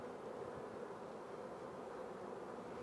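Honeybees crowd a brood frame during a hive inspection, giving off a faint, steady, low buzzing hum that carries on evenly with no other sounds.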